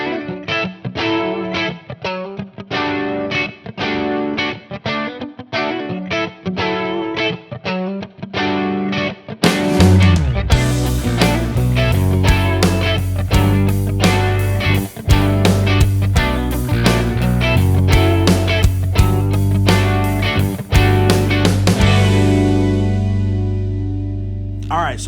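A 1995 song plays, led by a distorted, effected electric guitar riff. A choppy, rhythmic figure gives way midway to a louder, fuller heavy section that rings out at the end.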